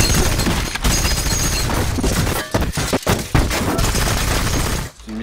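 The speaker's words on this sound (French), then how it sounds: "Une mitrailleuse portative" Rapid bursts of automatic fire from a compact portable machine gun on a film set, loud and close, with dense rattling volleys broken by brief gaps before cutting off.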